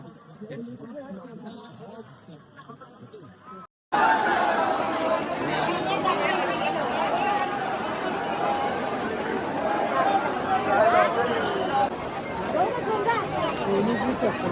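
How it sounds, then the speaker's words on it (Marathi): A dense crowd murmurs and chatters near the Pandurang temple during the Pandharpur vari on Ashadhi Ekadashi, a steady loud hubbub of many voices that abruptly swells after a quieter opening. "पांडुरंगाच्या मंदिराजवळ किती गर्दी आहे हे बघा"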